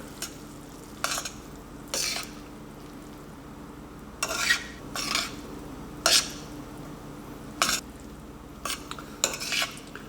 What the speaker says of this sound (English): we're going to stir all this together